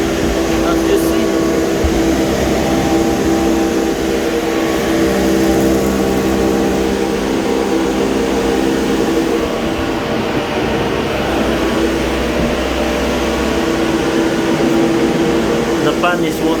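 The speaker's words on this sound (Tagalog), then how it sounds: "The evaporator fan is working, as you see." Evaporator fan of a Euro Frigo C3500 refrigeration unit running with a steady, loud whirring hum and tonal drone throughout, constant and close, with faint talk underneath.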